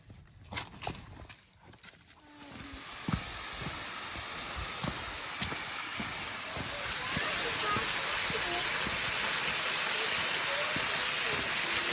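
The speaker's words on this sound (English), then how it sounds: "We are coming up on the waterfall, Hemden Hollow, right now." Steady broadband rush of the Hemmed-in Hollow waterfall grows louder and more constant as hikers approach on a cold-weather trail, with scattered footsteps and brief voices in the first few seconds.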